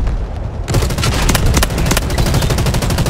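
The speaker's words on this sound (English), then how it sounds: "I got the machine gun." A tank-mounted machine gun on an M1A4 Abrams fires loud, rapid continuous bursts in the Delta Force video game, beginning abruptly after a brief quieter lead-in.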